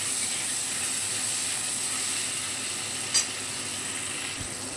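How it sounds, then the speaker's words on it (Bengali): Tomatoes and salt in hot oil sizzling steadily in a pan, a constant close hiss with one brief scrape of stirring midway and no talking. "নুনটা টমেটোর সঙ্গে খুব ভালোভাবে নেড়ে চেড়ে নিচ্ছি"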